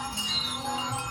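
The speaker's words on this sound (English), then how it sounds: "Wow, listen to all these wind chimes go in here." Many small wind chimes ring together in an enclosed space along Route 66, a steady shimmer of overlapping metallic tones lasting throughout, fairly soft and close.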